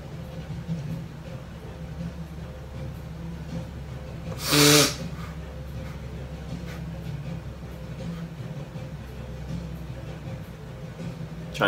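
A single sharp human sneeze bursts out once, loud and close, over a steady low background hum, with no talking around it.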